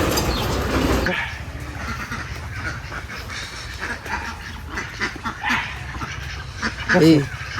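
Ducks at a market stall, quacking intermittently amid busy crowd noise, with one louder burst of calls near the end and people talking around them.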